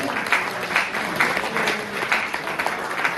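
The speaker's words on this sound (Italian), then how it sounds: "Un bel applauso per Dino." An audience at an accordionists' gathering in Friuli Venezia Giulia applauds in tribute to Dino Pagnutti, a steady wash of clapping from many hands, moderately loud and sustained throughout.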